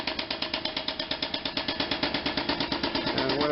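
A high pressure grease pump forces grease into the number 4 cylinder of an R-1820-76 radial engine on an HU-16 Albatross, a loud, rapid and steady mechanical pulsing that holds an even rhythm throughout with no voices.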